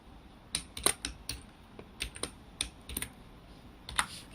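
Code being typed on a computer keyboard for a number-swap program, heard as close, crisp keystrokes in quick irregular clusters with brief pauses and no voices.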